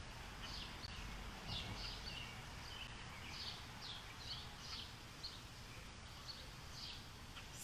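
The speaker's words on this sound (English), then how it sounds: "Just listening to the sounds of the birds." Birds sing outdoors in a backyard with a pool fountain nearby, giving faint, repeated high chirps at an unhurried pace over a steady, hissing background.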